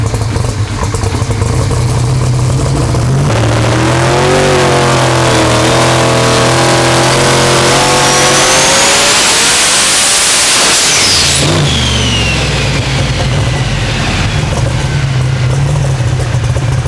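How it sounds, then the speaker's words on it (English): Turbocharged race car running about 42 psi of boost, its engine revving hard and climbing to roughly 9,000 rpm before hitting the rev limiter, then dropping back to a rough idle; loud, close and continuous with no talking. "Rev limiter right there, and kind of laid over."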